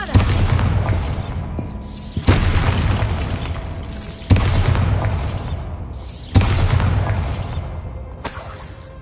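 The Bombarda explosion spell in Hogwarts Legacy: five heavy booming blasts about two seconds apart, each loud and close with a long rumbling, crackling tail that runs into the next.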